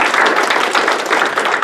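Sustained applause from a lecture audience honouring a sponsor couple, many hands clapping steadily and densely throughout, loud and close with no voices over it.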